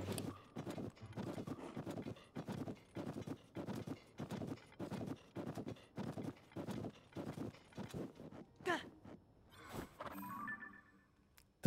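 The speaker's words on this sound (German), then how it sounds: "Da sind Pferde." Horse hooves clip-clop in a steady rhythm in the video game Zelda: Tears of the Kingdom, faint and even, before slowing into a few scattered steps.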